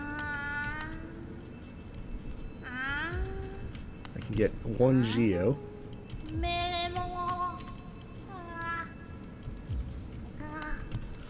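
Cartoonish cat meows from the Hollow Knight video game, several drawn-out calls at a steady pace over background music, with a person talking near the start.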